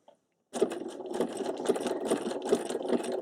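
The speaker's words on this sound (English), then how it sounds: "Take a few more stitches, stop on the inside of the fabric" A sewing machine runs a satin stitch on fabric, starting abruptly after a brief silence and then stitching in a steady, rapid, close mechanical chatter.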